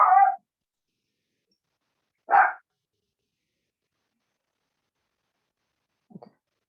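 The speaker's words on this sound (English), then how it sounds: "I'm sorry, my dog." A dog gives a short high whimper, then a single sharp bark about two seconds later, followed after a long silence by a faint brief yip, each sound isolated and close.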